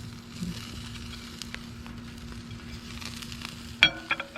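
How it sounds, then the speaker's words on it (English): Light rain sprinkles onto a pan at an outdoor campfire cooking spot, a steady soft crackling patter with a few sharper ticks toward the end. "It's starting to sprinkle on us. You can hear it on the pan."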